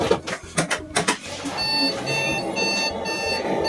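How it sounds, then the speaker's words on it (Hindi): A PC motherboard speaker on a dead computer with a no-display fault beeps continuously, a steady high tone running under a nearby voice after several sharp bursts at the start. "क्योंकि ये कंटिन्यू बीप दे रहा है"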